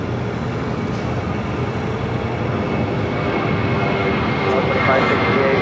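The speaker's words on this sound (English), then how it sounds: "It's an A320 now taking off." An Airbus A320 takes off at LAX with a loud, steady roar of jet engines that swells slightly toward the end.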